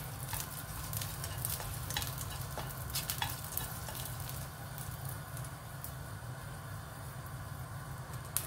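Garlic frying in a little oil in a pan, a soft, continuous low sizzle with occasional light pops and stirring clicks, steady and fairly quiet, with no voices.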